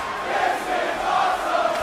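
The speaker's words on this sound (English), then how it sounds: "The crowd chanting, this is awesome" Video-game wrestling crowd in WWE 2K chanting "this is awesome" during a match, a dense, rhythmic arena roar of many voices rising and falling steadily throughout.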